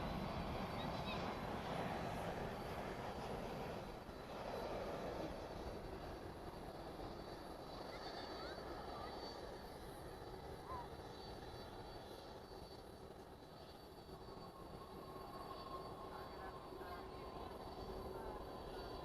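A Boeing 787 airliner arriving at DFW Airport at night after a long flight from Taipei gives off a faint, distant, continuous jet roar lasting throughout, with some background murmur.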